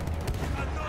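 Two gunshots fired in the Battlefield 1 video game, sharp loud bursts close together over a rumbling low battlefield din, with a voice talking over the shots.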